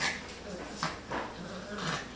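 Dogs play-fight close by with several short growls, whimpers and yips in uneven bursts, and a person talks over them.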